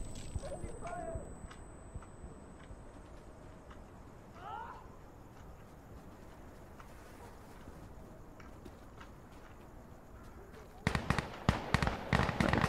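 A grenade goes off in Insurgency: Sandstorm: a quiet stretch of low in-game ambience gives way near the end to a sudden loud, sharp cluster of explosive cracks and bursts.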